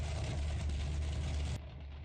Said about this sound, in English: Sounds a bit like a V8 with a straight pipe.